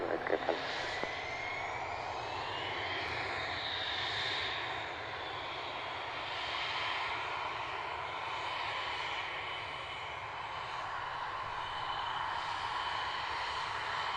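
A jet aircraft with one faulty engine rolls for takeoff at an air display, a loud sustained engine roar with a rising whine that holds steady throughout, far-off voices faintly underneath.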